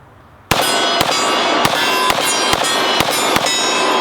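Rapid handgun fire comparing 10mm and .45 ACP, about seven loud sharp shots in quick succession with ringing echoes between them, close to the shooter.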